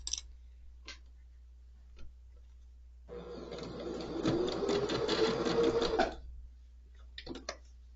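A sewing machine back stitches a curved quilt block in a steady three-second run, framed by a few faint clicks and handling noises against a low constant hum.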